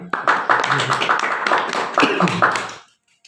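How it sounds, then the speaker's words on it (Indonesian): Clapping from a small group during an interview, a close, lively patter of hand claps that runs steadily for nearly three seconds and then stops abruptly into quiet. "Tepuk tangan."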